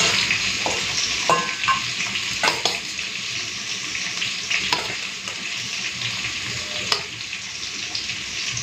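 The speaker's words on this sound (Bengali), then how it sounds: "চলুন এই তেলের মধ্যেই এখন আলু কচুটাকে ভেজে নেব।" Potato and taro pieces fry in hot oil, making a loud, steady, hissing sizzle close by, broken by a few scraping knocks of a stirring utensil and no talk.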